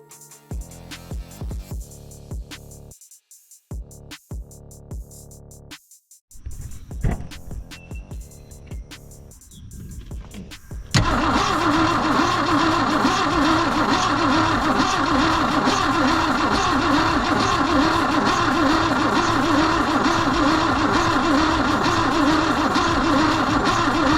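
A Ford Falcon engine, fresh spark plugs just fitted, cranks with scattered clicks and bursts, then catches at about eleven seconds and runs on as a loud, steady, close idle to the end.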